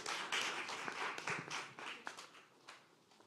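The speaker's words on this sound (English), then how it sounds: "let's give a huge round of applause for Team The Circus" A small audience at a sustainability competition finale claps for a competing team, a thin, uneven patter of hands that rises briefly and then tapers into scattered claps.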